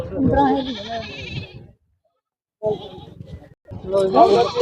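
A Barbari goat bleats up close in short wavering calls, with a silent gap in between and more bleating and voices at the end.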